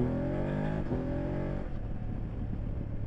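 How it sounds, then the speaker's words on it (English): A 2023 BMW F850 GS Adventure motorcycle engine revs up with rising harmonic tones, then settles into a steady, close rumble, heard alone without talk. "I really like the way the bike sounds."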